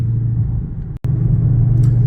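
Dodge Charger SRT Super Bee in Plum Crazy, a steady loud low exhaust rumble at cruising speed, broken by one brief dropout near the middle, with no voices.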